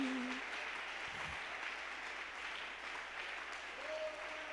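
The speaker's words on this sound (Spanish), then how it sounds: "Un aplauso para el Señor Jesús." A church congregation applauds during a Spanish-language worship service, with a steady wash of clapping running evenly through the whole stretch at moderate distance, with no talk over it.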